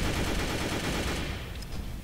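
Continuous gunfire in the Roblox game Mad City, a dense wash of rapid shots that fades slightly toward the end, with no talking.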